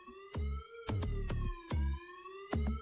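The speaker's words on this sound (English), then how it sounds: "Siren." A wailing siren-like tone sweeps over a pulsing electronic beat in a song, with heavy bass hits repeating in a steady rhythm.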